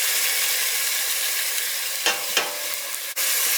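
Onion and garlic sizzle loudly in olive oil on the stove for an Egyptian stuffed grape vine leaf filling, a dense steady hiss broken by two or three brief stirring scrapes.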